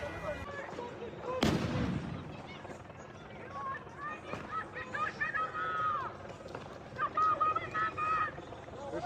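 A single sharp, loud gunshot during a riot with police using tear gas and flashbangs, followed by a noisy crowd with shouting voices.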